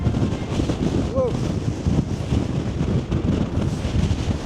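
Strong wind buffets the microphone on an exposed hilltop fell, a loud continuous roar with gusting surges throughout and a brief faint vocal sound near the middle.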